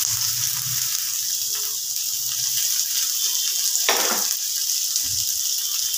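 Chopped onion and green chili fry with whole cumin in hot oil, giving a constant bright, hissing sizzle broken by a brief louder splutter and a few soft stirring bumps.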